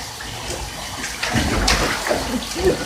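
Running water fills a bathtub for a pet goose in a steady, close, rushing pour, with a few splashes toward the end.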